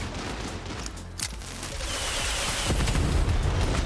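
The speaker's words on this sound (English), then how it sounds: "the rockets actually chase over and hit the dudes on the ground that were standing on the other side" Resolver homing rockets in Far Cry 6 slamming into enemies on the ground, a dense volley of booming impacts and crackling blasts that swells into a loud, sustained rumble with no voices.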